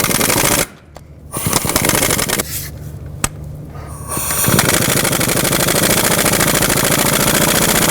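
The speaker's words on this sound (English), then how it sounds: "I'm going to take a 12mm socket with an extension and try to take off this nut first" Rapid bursts of an impact tool from a 12mm socket on an extension work an exhaust manifold nut on a Toyota, loud and rattling, with short pauses between runs before a long sustained hammering stretch.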